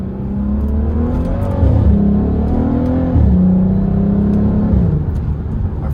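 A modified V6 Volkswagen Passat with a loud aftermarket exhaust and DSG gearbox pulls hard from the cabin, its engine note rising in pitch through a couple of gear shifts and dipping at each change.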